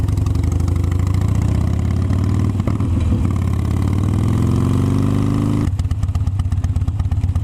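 A motorcycle engine idles at a traffic light, a steady loud rumble that swells briefly as the bike revs and pulls away, then settles into a harsher, busier running note.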